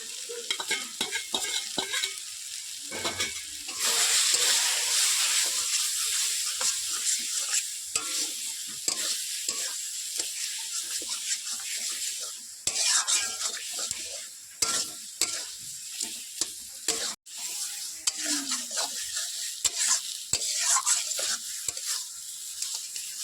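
Taro greens mixed with ground sesame paste fry and get stirred in a pan, a continuous loud sizzle broken by frequent scraping stirs, with no talking.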